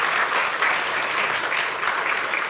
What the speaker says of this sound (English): I think one more round of applause for the fantastic panel here